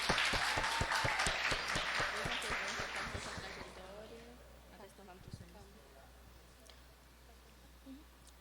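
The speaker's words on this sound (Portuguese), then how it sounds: "Uma salva de palmas para ela, fazendo favor." A crowd claps for a nutritionist guest at a school event, applause loud and dense at first, then thinning and fading after about four seconds into quieter room sound with a few scattered claps.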